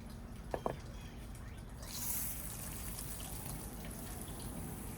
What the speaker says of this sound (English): Start just rinsing the sides of the pot, and some of that water will go into the planter.